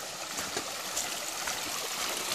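A Carpathian mountain river beside a hiking road near Bystrytsia, a steady hiss of rushing water, moderately close and continuous, with no voices.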